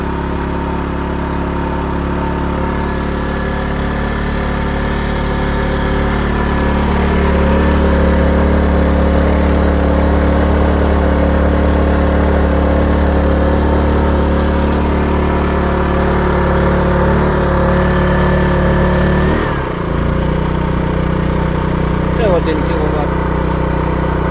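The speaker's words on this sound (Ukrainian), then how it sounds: "Так працює навантаження 2 кВт. Так, трішки гучніше став працювати." A Dnipro-M GX-30iG gas-and-petrol inverter generator runs under a 2 kW load, making a steady, close, droning hum that grows slightly louder partway through and then holds.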